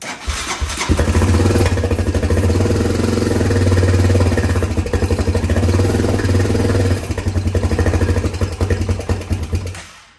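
A four-wheeler ATV engine fires up after a carburetor clean and runs loud and close, a rapid, slightly ticking idle that holds steady before cutting off at the end.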